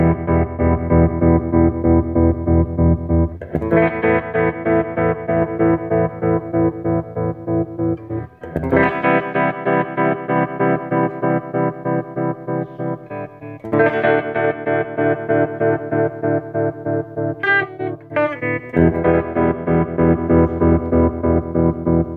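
Electric guitar, a Telecaster through a Bryce Amps VibroRay, plays sustained chords through a pulsing tremolo effect, the volume throbbing rapidly and evenly as each chord rings out.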